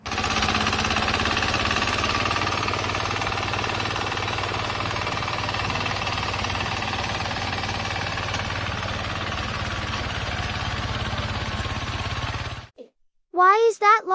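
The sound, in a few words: mini crawler tractor with rotary ditcher digging trenches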